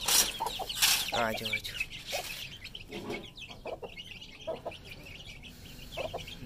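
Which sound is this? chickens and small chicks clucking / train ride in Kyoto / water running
chickens and small chicks clucking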